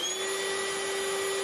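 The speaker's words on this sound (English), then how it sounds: "This is the sound of the vacuum running on the off-brand battery." A cordless vacuum cleaner on an off-brand battery runs steadily with a constant high-pitched whine over a broad airy hiss, close and loud, with no other sounds.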